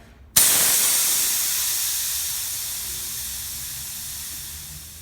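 Air suspension on a Ford Transit Connect van, fed by a compressor through a quarter-inch hose, starts with a sudden sharp burst of air, then a steady broad hiss slowly fades over several seconds, close and fairly loud with no talk.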